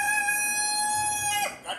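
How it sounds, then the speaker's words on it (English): A rooster crows once, a loud, close, sustained call that breaks into a short rough squawk at the end. "This is my rooster."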